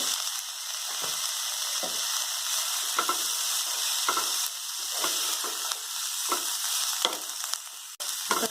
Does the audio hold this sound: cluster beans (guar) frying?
yes